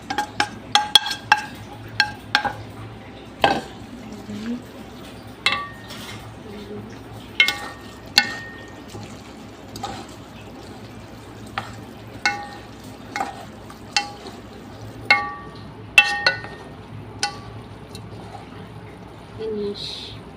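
Chinese shrimp pasta is stirred and fried in a pan: a soft continuous sizzle runs throughout, punctuated by repeated sharp clinks and scrapes of the utensil against the pan, close up and irregular.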